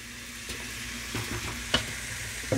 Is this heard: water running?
no